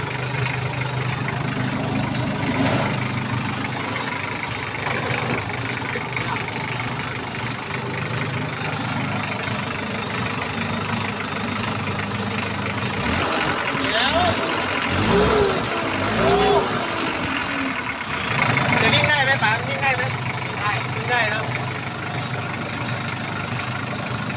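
Toyota Dyna engine fitted to an E-taen Thai farm vehicle, running steadily at idle with a constant mid-low drone, close by, while people talk intermittently over it.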